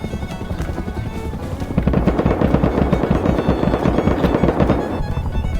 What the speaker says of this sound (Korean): 야 헬기 피해서 숨어